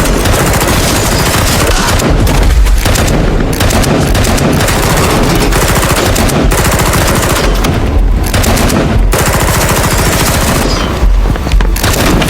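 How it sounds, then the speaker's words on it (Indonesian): Sustained gunfire from a film shootout: loud, dense bursts of automatic fire and booming shots rattle on almost without pause throughout. "sesekali harus terlibat baku tembak antara Mike dan Agent Ross"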